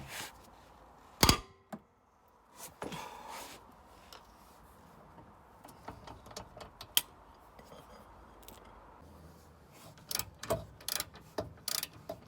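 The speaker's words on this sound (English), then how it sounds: "fortunately, so I can use the breaker." A breaker bar works loose the lower arm bolts on a Volvo V70 or S60 (P2), making sparse ratcheting clicks, creaks and metallic taps in a quiet workshop. Sharper knocks cluster toward the end.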